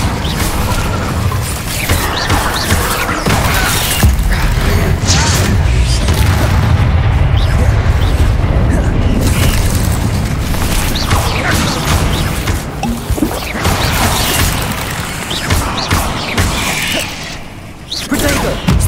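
Spell combat in Hogwarts Legacy, including an Incendio fire cast, with loud booming blasts, crashes and whooshes piling up continuously and spells called out over the din.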